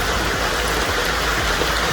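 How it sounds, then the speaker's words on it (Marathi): Heavy rain pours down steadily at night during a power cut, a dense, loud hiss of falling water on surfaces filling the whole moment without a break. "जोर वाढला पावसाचा"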